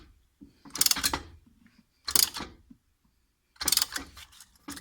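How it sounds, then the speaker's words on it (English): A ratcheting tool retracts the front brake caliper piston on a 2004 Ford Mustang, three close, bright bursts of clicking, grinding mechanism sound separated by short pauses. "I'm going to come down here and actually just go ahead and retract this piston back."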